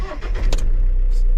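A Mahindra Bolero 2.0 pickup cranks with a short whirring starter burst, then its engine catches and settles into a loud, steady idle rumble close by.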